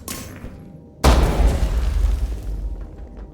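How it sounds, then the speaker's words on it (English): A grenade explodes in the SWAT shooter Ready Or Not: a single sudden, loud boom after a quiet moment, followed by a heavy rumbling decay that fades over a couple of seconds. "I'm just gonna throw the grenade."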